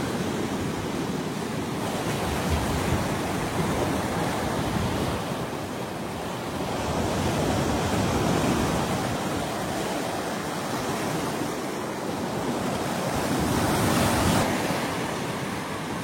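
Aegean Sea waves near Thessaloniki wash onto the shore in slow, broad surges that rise and fall every few seconds, with wind buffeting the microphone and no voices.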